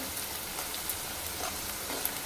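Spices with turmeric frying in oil for a tomato curry: a soft, steady sizzle with faint crackles scattered throughout, close and quiet, with no talking.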